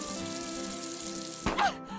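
Tap water runs steadily into a sink close by, a constant hiss that breaks into a brief splash near the end.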